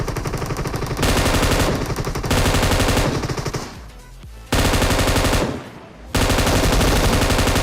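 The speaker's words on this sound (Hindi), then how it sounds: "बहुत खतरनाक वाली फायरिंग की आवाज आ रही थी मेरे को" Sustained automatic gunfire from an M249 in the PUBG Mobile video game, with loud rapid bursts that drop out briefly a couple of times before resuming, heard close and alone.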